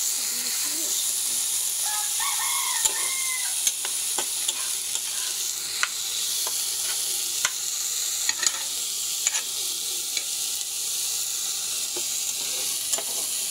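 Dried chilli frying with greens in a pan, a steady close sizzle and hiss running throughout, broken by scattered sharp pops and scraping stirs.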